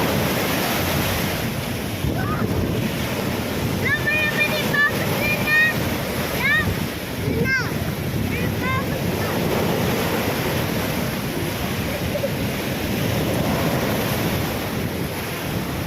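Rough seas churn during a typhoon in the Philippines, waves surging and crashing in a constant roar while strong wind buffets the microphone, with a ship visible ahead; a few faint high whistling calls rise briefly in the middle.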